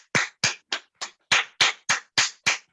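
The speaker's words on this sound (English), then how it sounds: "3 finger clap." Three-finger clapping by a group in a training session: ten fuller, sharp claps at a steady, fairly quick rhythm, close and loud with brief gaps between them.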